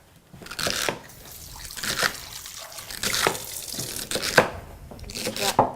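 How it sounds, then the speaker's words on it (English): Celery stalks being chopped on a board, a series of crisp, irregular knife cuts with wet crunchy bursts roughly every second, close and fairly loud. "the celery stalks are going to be chopped a little bit less than an inch"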